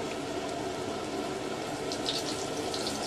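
Eggplant slices fry in hot oil with a continuous, dense sizzle and hiss, steady and close, with brief brighter crackling bursts toward the end.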